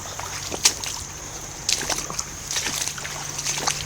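Water splashing and sloshing as creek gravel is sluiced for gold on the outside bend of a creek, in a few irregular bursts over a steady background hiss.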